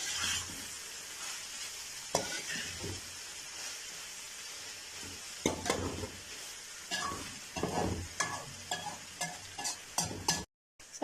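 Capsicum, peas and potato fry in a pan for vegetable pasta, a steady sizzle broken by irregular stirring scrapes and clatters, close and moderately loud.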